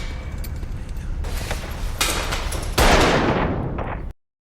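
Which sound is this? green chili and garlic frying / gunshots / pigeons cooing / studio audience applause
gunshots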